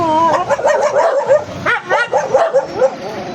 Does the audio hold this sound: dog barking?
yes